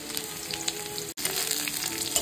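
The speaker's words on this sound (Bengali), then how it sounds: "সর্ষের তেলে দুটো শুকনো লঙ্কা, রসুন কুচি, অল্প কালো জিরে দিয়ে ফোড়ন দিয়ে দেবেন।" Dried chillies, chopped garlic and nigella seeds sizzle and crackle steadily in hot mustard oil, a close, continuous frying hiss with a brief dropout midway, no talking.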